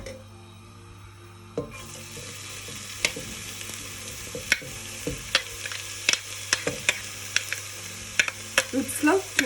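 Onion and garlic frying in a little oil for lasagna, a continuous close sizzle that starts after a moment, with frequent scraping stirs and utensil clicks throughout and no talk.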